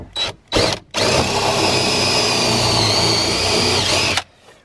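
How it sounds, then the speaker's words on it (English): A power drill bores a hole through wood into a wall stud: two short trigger bursts, then one loud sustained high whine lasting about three seconds before winding down, close and alone. "I'm thinking if I drill a hole through here"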